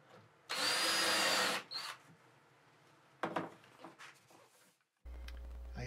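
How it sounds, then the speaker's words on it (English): A power drill bores a hole in wood for a rocking horse rocker assembly, set on a rubber sanding block in a workshop: one loud, close, sustained whine of about a second, then shorter quieter bursts and handling noises. "A little rubber sanding block under there to steady the rocker assembly while I drill the hole"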